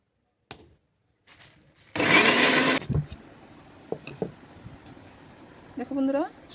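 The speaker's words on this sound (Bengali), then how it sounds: "এবার লাল কাঁচা লঙ্কা, আদা টুকরো আর পেঁয়াজ কুচি এক জায়গায় পেস্ট করে নিব।" A small blender or mixer grinds red chilli, ginger and chopped onion with a little water into paste in one short loud burst of under a second, surrounded by quieter clanks and handling noises.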